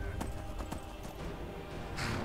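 Hooves clip-clop at a steady gallop as a horse is ridden along a trail in a video game, with a brief snort or whinny near the end, close and moderately loud.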